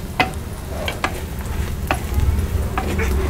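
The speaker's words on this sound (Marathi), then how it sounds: "आता आपल्याला ना इकडं आपण शेंगदाणे वगैरे सगळे बारीक करून घेतो ना ते घालूया आणि चांगलं असं आपल्याला हे परतून घ्यायचं आहे" Ground peanuts, coconut and spices sautéed in oil in a pan for a stuffed ridge gourd curry, with a steady close sizzle and a few sharp spatula scrapes and stirs, no voices.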